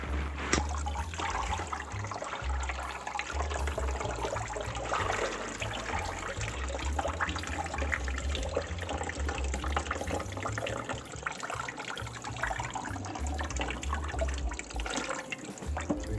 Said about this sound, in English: I'm just going to pull the cheesecloth up a little bit here so it can help consolidate the curd and try to get rid of some of this liquid